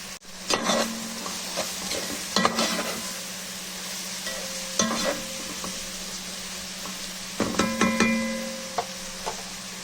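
Onions sizzle steadily in a pot while a utensil scrapes and stirs in irregular bursts, close up, with no talking.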